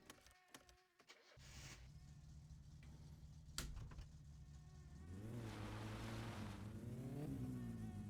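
A car engine in the My Summer Car video game revs on gravel, starting with rough sputters, then settling into a steady drone that climbs and surges louder with too much throttle toward the end.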